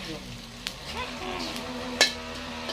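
Insects frying with steady sizzling in a hot pan, a few sharp pops and crackles, one louder snap standing out partway through.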